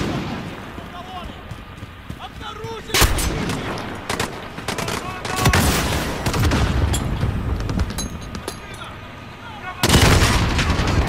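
Heavy gunfire crackles in a Call of Duty Modern Warfare match, with loud bursts around the three-, five-, and ten-second marks and sustained volleys in between, set against a continuous battlefield din.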